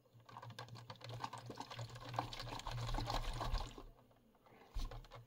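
Water sloshing and trickling inside a Litton Marine Systems C. Plath type 4590 mercury gyrosphere container, a close, continuous rustling swish with a low hum beneath, fading near the end before a brief final slosh.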